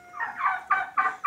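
Several turkeys on a farm give rapid, rattling gobbles in quick bursts, close and clear against a quiet morning background.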